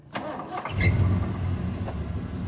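A manual-transmission vehicle's engine cranks and catches, then settles into a steady mid-pitched running note close by, pulling off from a stop in second gear.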